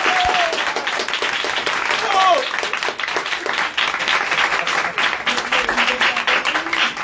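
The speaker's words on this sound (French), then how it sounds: "Applaudissez-moi pour vous." Audience applause at a gathering, with dense clapping running steadily throughout and voices talking over it.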